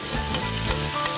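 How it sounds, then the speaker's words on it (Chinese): Fresh mushrooms stir-fried in a wok give a brief, close sizzle with scraping stir strokes, steady and unaccompanied by talk. "炒一下就可以了"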